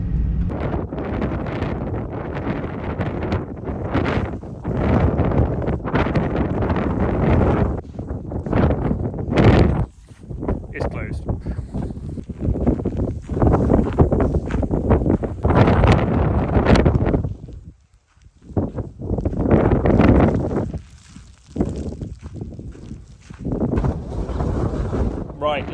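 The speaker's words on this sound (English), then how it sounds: "let's dub over the wind noise. Very windy." Loud, gusty wind roaring across a microphone in long surging bursts, with brief lulls between blasts, in icy winter Arctic conditions in northern Lapland.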